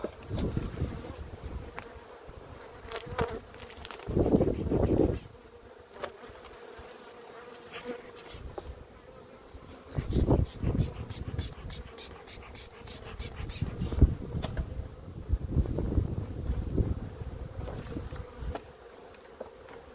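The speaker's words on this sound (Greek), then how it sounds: "Έχουμε μέλισσα και έξω από το φελιζόλ." Honeybees buzz steadily around hives during a spring inspection of queen colonies, a continuous nearby drone with a few louder bursts as bees pass close, and no talk.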